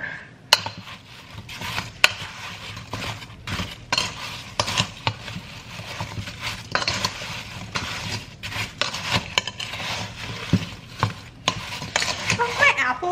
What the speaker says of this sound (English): Just gonna shake this in and give this a good old stir